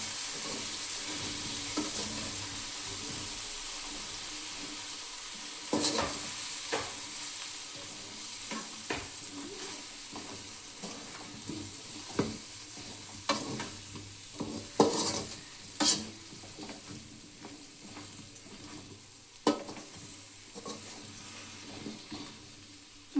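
Coriander powder and chili powder are stirred into a frying sambar base with drumsticks, giving a continuous sizzle with repeated close spoon scrapes and clinks against the pan, irregular and fairly soft.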